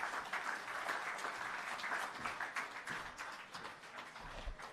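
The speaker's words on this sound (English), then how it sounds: "Another round of applause for our Prime Minister, ladies and gentlemen" Applause for the Prime Minister at a Shelter Recovery Programme event after Hurricane Melissa, a steady wash of many hands clapping at moderate distance, fairly faint and continuous throughout with no voices standing out.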